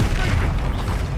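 A fire spell erupting in Hogwarts Legacy, a short dense whooshing, booming burst of flame with a low rumbling body that stays loud for its whole brief span.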